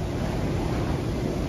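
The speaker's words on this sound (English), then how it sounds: "It is really windy out today." Strong wind blowing across an open hobby farm during a windstorm, a steady broadband roar with buffeting microphone rumble, constant and loud with no voices.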